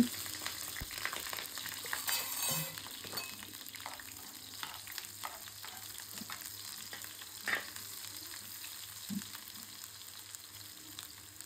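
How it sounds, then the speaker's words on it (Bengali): Onion and garlic frying in hot oil, a soft, steady crackling sizzle with occasional stirring clinks and scrapes, fairly quiet and with no speech. "পেঁয়াজ আর রসুন দিয়ে বাগার দেব। পেঁয়াজটা একটু ভেজে নিচ্ছি।"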